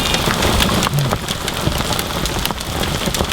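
Large hailstones pelt down loudly and continuously during a carp fishing trip at Les Teillatts, a dense, steady clatter of impacts on surfaces with occasional sharper hits and no voices.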